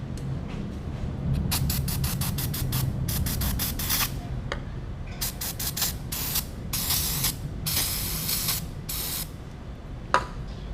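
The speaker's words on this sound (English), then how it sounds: "I'm going to just clean these threads up a little more with some brake cleaner." Brake cleaner hisses from an aerosol can in a series of short and longer bursts, sprayed onto bolt threads on a CR85 motorcycle shock, loud and close over a steady low background.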